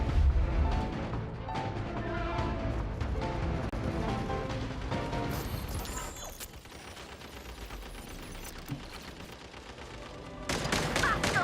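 Turrets firing in the video game Genshin Impact during an event, a dense stream of rapid gunfire-like bursts and crashes over steady game music, continuous and loud with a sharp burst near the end.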